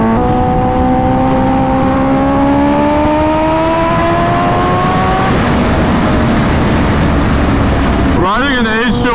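A Kawasaki Ninja H2R motorcycle rides through traffic, its engine holding a loud, close, rising whine against heavy wind rush, then revving sharply in wavering bursts near the end.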